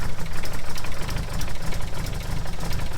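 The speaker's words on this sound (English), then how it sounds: "That's some cold start action right there" Engine of a Ranger utility vehicle idling after a cold start, a loud, steady, low rumbling idle with rough knocking pulses, heard close and without talk.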